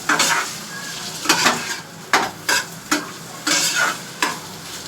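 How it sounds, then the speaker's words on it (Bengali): A beetroot chop mixture spiced with chilli powder, garam masala and salt is stirred and fried in a pan, its steady sizzle broken by several loud scraping strokes of the spatula in irregular bursts. "নাড়াচাড়া করে ভালো করে ভাজবো"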